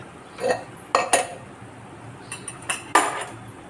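Steel plate lifted from a hot puttu steamer pot after steaming kambu (pearl millet) puttu, giving a few sharp metallic clinks and scrapes spread over a few seconds, fairly close.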